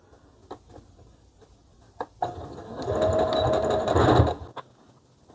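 A sewing machine topstitches along the edge of fabric for a child's jumpsuit. A few clicks come first, then a short, steady whirring run up close, and no one talks.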